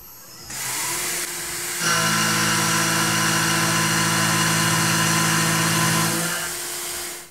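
A Tormach PCNC mill taking a heavy 0.3-inch-deep cut at 35 inches per minute: a steady, loud mechanical drone with a strained tonal whine that swells near the start and holds evenly to the end, with no speech.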